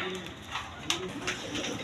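A pair of high-flying pigeons in a pigeon sale enclosure gives low, burbling coos in quick successive phrases, close and fairly quiet, with a brief tap partway through.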